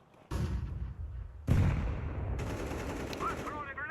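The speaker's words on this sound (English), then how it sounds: "I'm throwing the flashbang." A flashbang goes off in the CS2 video game with bursts of gunfire around it: a sharp blast near the start, a second heavier bang at mid-clip, then a loud rolling rumble that carries on to the end.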